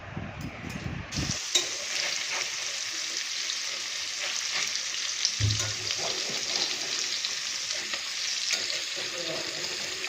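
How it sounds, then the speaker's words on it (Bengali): Paneer pieces fry in an overheated kadai with a loud, steady sizzle. It runs the whole time, with a brief clatter at the start and occasional stirring scrapes, and no voices. "এবার পনিরটা বসিয়ে দিই"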